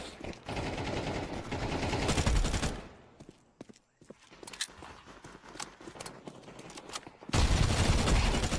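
Bursts of automatic gunfire and single shots from a video game shooter, loud and rapid at the start, sparse scattered shots in the middle, then another dense volley at the end.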